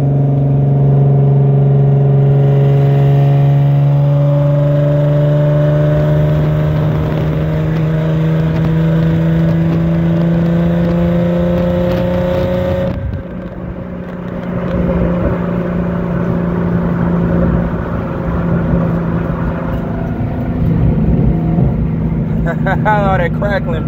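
Infiniti G35 exhaust revving hard, a loud steady engine drone that climbs in pitch and then breaks into a rougher, crackling burble partway through, close to the car with a voice talking over it.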